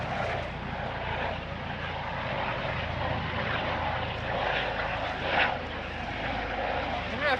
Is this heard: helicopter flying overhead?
yes